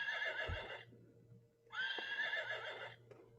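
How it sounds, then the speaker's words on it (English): A horse neighs twice in clear, high whinnies, each lasting about a second with a quiet gap between, close and prominent over near silence. "a horse."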